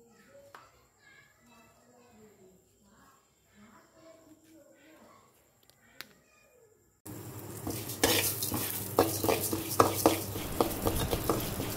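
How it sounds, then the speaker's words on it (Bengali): Moong dal frying in a pan on a home kitchen stove sizzles loudly in the second half, with sharp clinks of a spatula stirring against the metal, after a stretch of quiet voices. "মুগ ডাল ভেজে নিলাম।"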